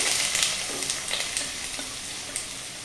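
Onion sautés in hot coconut oil in a kadai, giving a continuous bright sizzle with light stirring scrapes and small crackles, close and steady without speech.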